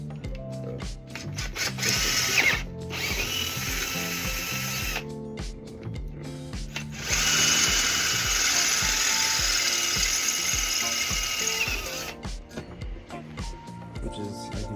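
A power drill drives a self-tapping screw into a motorcycle top rack mount while fitting a KTM rear bag with a Quicklock Evo system; the whirring bursts run close and loud, several seconds each with short pauses between, and no one talks.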